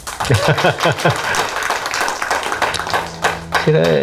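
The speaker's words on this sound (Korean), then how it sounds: "박수 한번 쳐주십시오." Clapping from a humanities lecture audience, brief and somewhat scattered, mixed with voices and a short tonal sound near the end.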